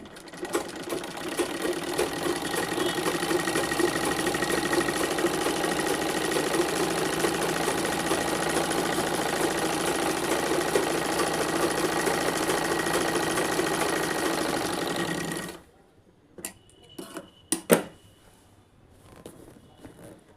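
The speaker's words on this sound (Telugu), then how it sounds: "ఇప్పుడు ఇంకా కింద వరకు స్టిచ్ వేయాలి" An electric sewing machine runs steadily for about fifteen seconds, stitching the side seam of a dress with a loud, even whirring hum. It then stops, leaving a few soft handling clicks and taps of the fabric.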